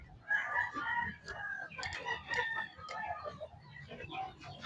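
Chicks and chickens chirp and cluck at feeding time on a drizzly farm, with busy overlapping peeps and calls that run steadily throughout, close by.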